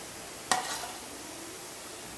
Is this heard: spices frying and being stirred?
yes